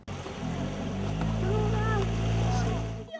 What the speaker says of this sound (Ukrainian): А малечу катали на моторному човні.